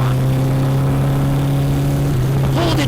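Cafe racer motorcycle engine holding a steady idle-like drone with a strong low hum and whirring overtones, then shifting pitch near the end as the revs change.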